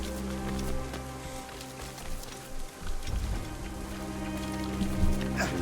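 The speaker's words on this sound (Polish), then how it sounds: "Akurat zaczyna padać deszcz." Steady rain falls in the video game Assassin's Creed Rogue, a soft continuous patter on surfaces with faint game ambience and occasional louder drops, no speech over it.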